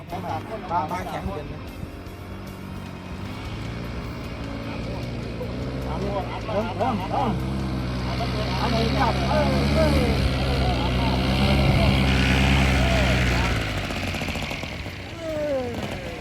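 A paramotor engine droning steadily as it comes in to land on a grassy field, a sustained buzzing hum that slowly rises and falls in pitch, with faint talk in the background.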